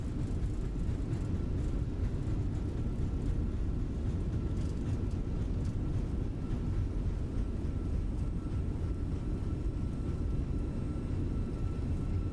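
Airliner thrust reversers roaring on landing rollout in Microsoft Flight Simulator 2024, a steady loud broadband rumble that holds without break from start to end.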